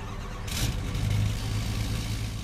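A GMC truck engine revs hard in Farming Simulator 22, a steady close mechanical roar climbing with the turbo spinning up, heard alone with no talk.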